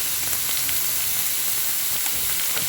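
Ham and pineapple tidbits sautéing in a pan, a steady, close sizzle and crackle of frying that holds throughout with no talking.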